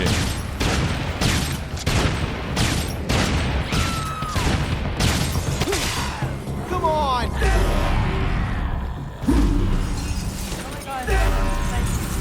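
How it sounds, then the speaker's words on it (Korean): Repeated heavy twin-cannon blasts in Dead Rising 3 and crashing impacts pound in quick succession amid game effects, with a voice talking over the barrage. "쌍둥이 대포지"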